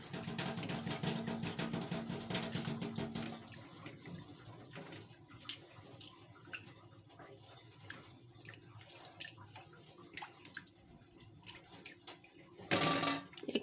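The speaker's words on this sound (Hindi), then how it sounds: "ऐड करेंगे 1 कप पानी।" A cup of water poured into a pan of egg fried rice and chicken Manchurian mixture, a close splashing gush for about three seconds, then quieter stirring and clinks, with a brief louder burst near the end.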